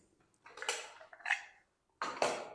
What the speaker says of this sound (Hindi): एक मिक्सी जार ले लेंगे जिसके अंदर ना आप मसाले वगैरह पीसते हैं